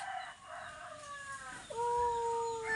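A chicken, likely a rooster, calls with a short series of clucks and drawn-out tonal crowing notes, loud and close, heard alone without voices.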